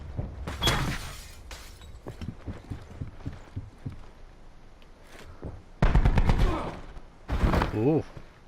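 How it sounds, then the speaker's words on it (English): Gunshots and a scuffle erupt upstairs in the video game Call of Duty Blackout, with sharp bursts of fire, clattering impacts and footsteps, separated by quieter stretches. "You're about to hear kind of some extra footsteps, some gunshots, and a scuffle happen upstairs."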